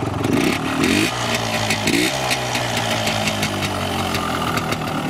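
A Yamaha TY 125cc trial motorcycle engine idling close by, a loud steady mechanical chug with ticking clatter and a couple of small throttle blips near the start.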